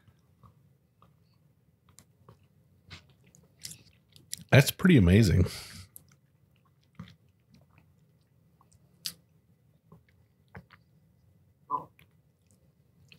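Crunching of a peanut butter and graham cracker cocktail rim during a Christmas cocktail tasting, a short burst of close chewing crunches surrounded by quiet talk and small mouth clicks.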